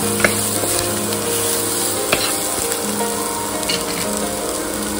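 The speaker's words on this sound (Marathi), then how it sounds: "ते आता छान परतवून घेऊया" Steady loud sizzling as chopped vegetables with coriander are stir-fried in a pan, with occasional sharp spatula knocks and scrapes and no talking.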